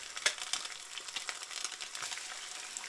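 Eggs frying in a pan for breakfast, a faint crackling sizzle with scattered small pops at close range.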